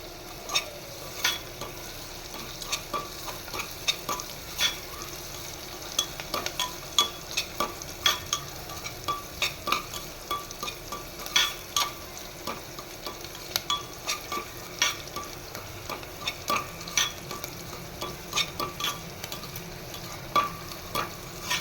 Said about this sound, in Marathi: छान अशी फोडणी मी परतवून घेते.